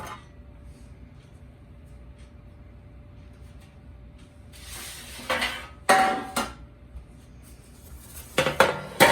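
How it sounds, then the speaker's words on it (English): A metal pan used for baking Sicilian pizza is picked up and handled: after several seconds of quiet room hum, sharp metallic clanks and clattering bursts break out near the end, close and loud. "So this is my pan that goes in the oven for my Sicilian"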